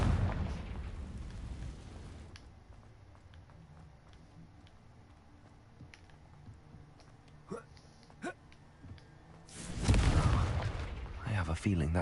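A Confringo spell explosion in a video game, heard as a loud blast with a burst of noise in the opening seconds, then quieter game ambience with scattered clicks, and a second strong burst near the end.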